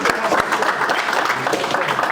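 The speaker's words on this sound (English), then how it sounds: "a big applause to the Linden" An audience at a talk gives steady, dense applause throughout, with overlapping claps and a voice faintly audible underneath.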